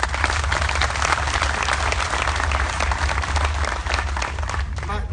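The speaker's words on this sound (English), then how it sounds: "everybody should clap right now for everybody that's on stage right here" Crowd applauding people on stage during a hall of fame speech at MTSU, a dense, steady wash of clapping filling the hall for several seconds with loud crowd noise throughout.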